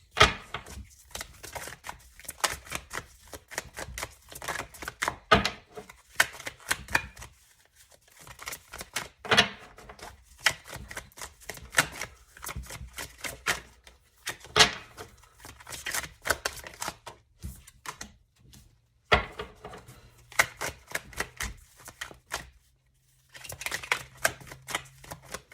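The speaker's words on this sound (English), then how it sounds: "So I'm just going to keep shuffling until we get roughly 2 or 3 more cards," Tarot cards being shuffled by hand in repeated riffling, slapping bursts with brief pauses between rounds, close and crisp with no talking over them.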